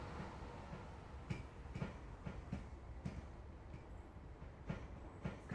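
Train rolling on rails in the Train Sim World 3 video game, with regular rhythmic wheel clacks over rail joints under a low steady rumble, fairly quiet and without speech.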